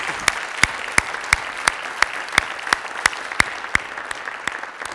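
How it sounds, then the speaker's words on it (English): Audience applause at a conference on social progress, a dense, even patter of many hands joined by one close, loud clapper striking in a steady beat. "So can you please give them a round of applause?"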